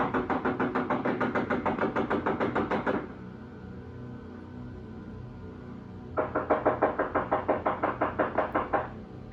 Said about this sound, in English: I'm knocking on the door, but nobody answering.